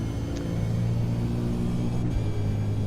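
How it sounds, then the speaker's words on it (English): A loud V8 race car driving at Bathurst, its engine a steady, heavy droning rumble with harmonic tones, close and continuous throughout, with a brief dip in pitch near the end as if shifting. "I think this car is very, very loud in your ears"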